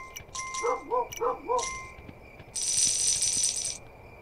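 Dog barking in the video game Kingdom New Lands, a few sharp barks in a quick cluster near the start, followed by a brighter rattling game noise, with no talk over it.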